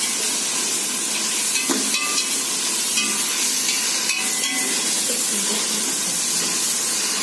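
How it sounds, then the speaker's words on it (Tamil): Onions fry with whole spices in a pan, giving a loud continuous sizzling hiss with faint stirring scrapes, steady and close throughout. "வெங்காயம் நல்லா செவக்க வதக்கிட்டு இருக்கிறேன்"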